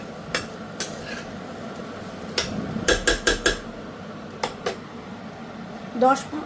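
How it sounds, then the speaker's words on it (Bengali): Chickpeas being stirred and fried with spices in a pan, a spoon striking the metal in scattered sharp clacks, some in a quick run of four, over a quiet background with faint talk. "দশ মিনিট মতো একটু কষে নেব"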